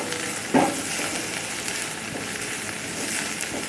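Finely chopped green chillies dropped into frying onion in a pan, a loud sudden sizzle burst followed by steady crackling frying, with no voices.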